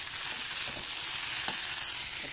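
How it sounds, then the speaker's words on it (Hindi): A pan of food sizzles with salt, turmeric and black pepper, a close, steady hiss that runs unbroken without talk. "और इसको धीरे धीरे मैं फ्राई करते रहूँगी।"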